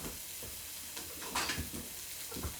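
Carrots sauté in oil while a spatula stirs them, making a faint, steady sizzle broken by a few soft scrapes and clatters, with no talking.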